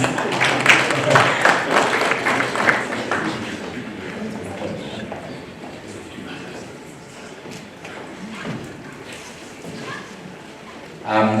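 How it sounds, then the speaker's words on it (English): At a conference on farmer and food-processor collaboration, the audience claps in a busy burst for a few seconds, then thins out while someone talks over a PA, with a brief swell of clapping again at the end. "Let's keep clapping those hands."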